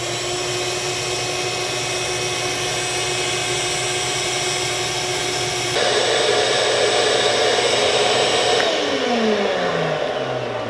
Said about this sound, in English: I'm going to turn the shop vac on and see what happens to this one leg